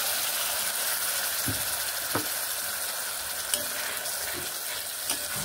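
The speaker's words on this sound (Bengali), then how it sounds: "খুব ভালোভাবে মশলাটিকে কষিয়ে নেব" Ginger, cumin and chili paste frying in a pan makes a constant bright sizzle close by, with occasional faint knocks and scrapes as the paste is stirred. No one speaks.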